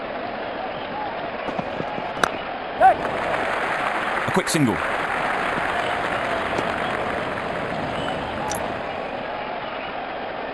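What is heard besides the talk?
cricket stadium crowd cheering and applauding, IPL match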